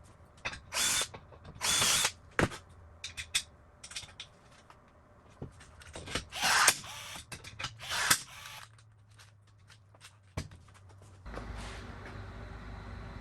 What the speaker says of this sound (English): use my drill press to get a nice straight hole